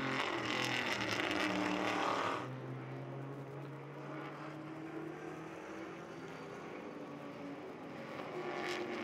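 Vintage race cars, including a Camaro, circle the track at the Monterey Motorsports Reunion, their engines a steady loud roar with a louder pass at the start and rising again near the end.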